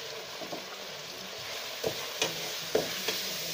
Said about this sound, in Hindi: इसको दोस्तों हमने बहुत अच्छा ब्राउन करना है, बहुत ही अच्छा क्रिस्पी करना है।